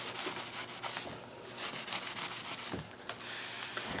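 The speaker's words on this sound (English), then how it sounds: "And just burnish it well." Paper being burnished by hand onto a page while making a magazine journal, repeated dry rubbing strokes in a steady back-and-forth rhythm, close and fairly clear.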